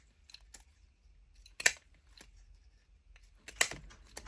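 Scissors cut out paper circles for a Halloween junk journal, with soft snipping and two crisp, louder snips spaced a couple of seconds apart, close and quiet with no voices.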